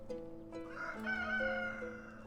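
A rooster crows in the farming village game Ostriv, one drawn-out cock-a-doodle-doo with clear rising and falling tones, loud and close, with no talk over it.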